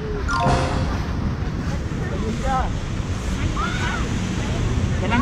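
Surf on Jomtien Beach in Pattaya rushes in a steady broadband wash under gusting wind buffeting the microphone, while people talk over it.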